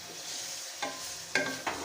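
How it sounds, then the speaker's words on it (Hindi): Chicken pieces browning with salt in a karahi: a soft, steady sizzle of frying broken by a few quick scraping stirs of the spoon, fairly faint and close, no talking. "अच्छी तरह इसको हम फ्राई करेंगे"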